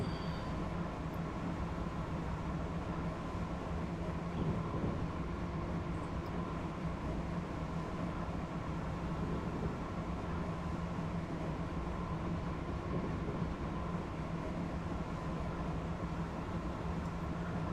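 Steady rolling rumble and rail hum of an Acela Express trainset running on the Northeast Corridor between New York and New Haven in Train Simulator, continuous and even throughout with no talk.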